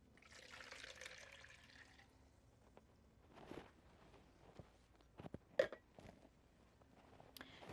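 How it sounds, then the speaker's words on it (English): Coffee poured into an enema bucket: a brief liquid gush at the start, then quiet splashes, drips and a few sharp plastic knocks, close by and with no talking. "So we're going to pour it in the bucket."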